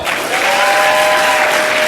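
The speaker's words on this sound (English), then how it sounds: "Clap if you want the exciting one." A conference audience at a sales network event claps steadily and loudly for the full stretch, a dense close wash of applause with no speech over it.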